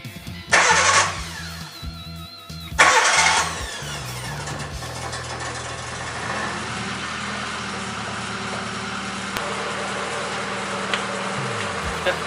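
A Suzuki Samurai fitted with a new starter motor cranks in two short bursts before the engine catches and settles into a steady, close idle.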